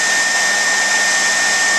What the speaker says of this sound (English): just going to use this Fred Meyer hairdryer